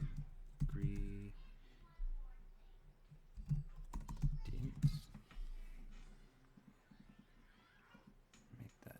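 Computer keyboard keys tap in quick clustered bursts close by, with pauses between runs, while a person talks over part of the typing.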